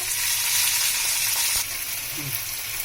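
Ginger paste sizzles loudly in hot oil with Kashmiri chilli powder while cooking a Bengali banana-flower kofta curry, a steady close frying hiss with no talk.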